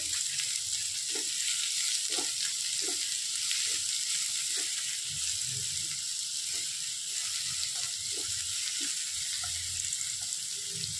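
Onions frying in hot oil with fennel seeds and spices, a steady close sizzle running throughout with occasional light stirring clicks.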